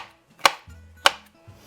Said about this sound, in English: you can chop these as finely as you would like them